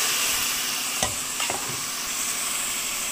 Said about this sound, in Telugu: మునగాకుని యాడ్ చేసి అది కూడా కొంచెంసేపు ఫ్రై అవ్వాలి